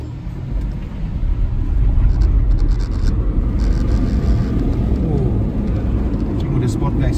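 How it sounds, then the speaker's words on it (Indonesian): A premium electric car accelerates in sport mode, heard from inside the cabin as a loud, low road and tyre rumble that swells and holds steady, with no engine note and faint higher whine above it. "Kita coba akselerasi guys ya."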